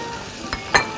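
Tomato paste hits a hot pan, giving two short, sharp sizzling bursts over a quiet background hiss, with no voices.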